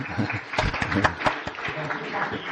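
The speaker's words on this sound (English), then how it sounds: "Applause." An audience at a talk on green jobs in Chad applauds, a scattered run of individual claps with some sharper strikes standing out, moderately close, with faint voices mixed in.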